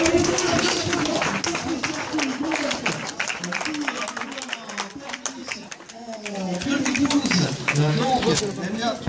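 Spectators at the 36th Marmande–Meilhan race applaud the winner with continuous clapping, while an announcer talks loudly over it throughout.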